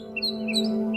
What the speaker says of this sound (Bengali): পাখির কলরব